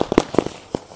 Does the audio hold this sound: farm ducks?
no